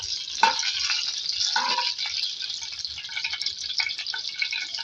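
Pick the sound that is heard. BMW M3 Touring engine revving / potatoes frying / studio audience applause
potatoes frying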